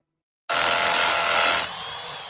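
A Bosch Bulldog rotary hammer starts abruptly from silence and drills loudly and close for nearly two seconds before dropping to a lower, steadier whir, with no voices.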